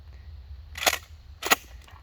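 Two sharp, loud shotgun shots fire a little over half a second apart during a defensive shotgun training workshop, each a crisp burst with a brief fade.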